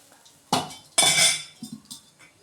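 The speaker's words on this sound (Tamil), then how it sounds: "கரண்டி வச்சு இது மாதிரி நல்லா கிண்டி விட்டாச்சு." A ladle scrapes and clanks against a pot while fish curry (meen kulambu) is stirred, giving two sharp metallic knocks followed by softer clinks, close and clear.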